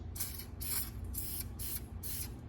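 A Preval sprayer sprays Polycryl finish in five short, sharp hissing bursts separated by brief pauses, close and clear over a low steady hum.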